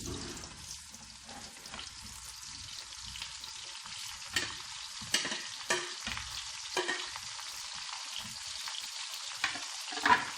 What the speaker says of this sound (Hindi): अब इनको भी इसी तरह फ्राई करेंगे।